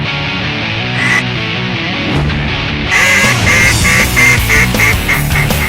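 Ducks quack loudly and repeatedly in the Kankakee Marsh in northern Indiana during a duck hunt, their calls overlapping in a busy, continuous chorus.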